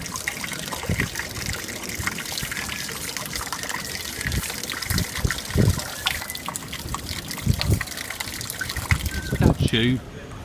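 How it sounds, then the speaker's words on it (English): Water trickles and splashes from a town fountain in Llucmajor, Mallorca, a steady moderate flow with louder spatters now and then and indistinct voices in the background. "I do love all their fountains they have found here."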